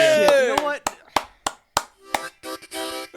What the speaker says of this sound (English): Hand of applause for Ian.